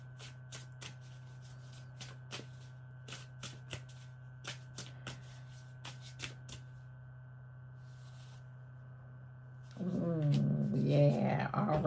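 Tarot cards shuffled by hand in a series of quick riffling bursts, crisp and close over a steady low hum, followed near the end by louder handling noise.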